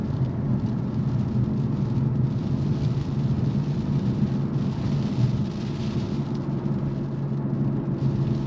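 Steady rain noise during a drive in a BMW M4 Convertible in Florida, with a low rumbling wash underneath, constant and fairly loud throughout, no voices.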